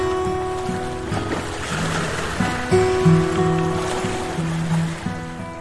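Sea waves wash steadily onto a sandy shore lined with coconut palms, a continuous surf noise mixed with background music.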